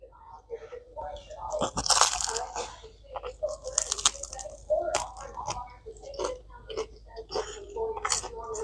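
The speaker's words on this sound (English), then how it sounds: "Crunchy crust." Close crackling crunches of a knife sawing through crisp bread crust, repeated rough strokes with crumbly snaps throughout.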